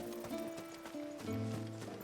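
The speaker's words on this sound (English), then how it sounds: "Horses." Horses in Final Fantasy XVI clop briefly beneath sustained game music, a few soft hoof beats mixed into the tonal background.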